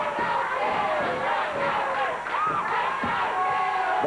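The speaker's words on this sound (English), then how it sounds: "attempting to quiet the crowd there. They're yelling, yep, let's go, Jeff, let's go" Wrestling crowd at a Memphis championship match yelling and chanting loudly and steadily throughout, dense and close, with scattered thumps underneath.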